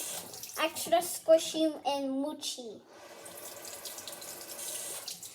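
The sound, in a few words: water running from a tap while cleaning squishies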